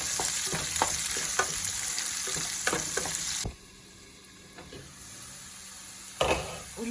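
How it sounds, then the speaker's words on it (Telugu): Chopped onions and green chillies sizzle in hot oil while a spoon scrapes and stirs the pan in quick strokes; the frying drops to a softer hiss midway, then another stir clatters near the end. "ఉల్లిపాయలు పచ్చిమిరపకాయలు బాగా వేగిపోయాయండి."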